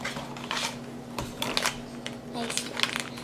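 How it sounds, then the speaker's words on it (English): Scissors snip through plastic toy packaging in a few sharp, close cuts and crinkles, mixed with rustling, with a low steady hum underneath. "You may need the scissors. Okay, scissors to the rescue. I'm just gonna cut this whole thing."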